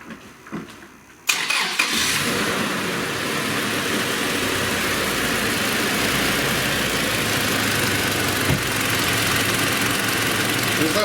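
Toyota Land Cruiser Prado 120 with fault code P0014 and a knock, warmed up; the engine cranks and catches after a short quiet pause, then settles into a steady, loud, close idle with a faint knock in the rumble.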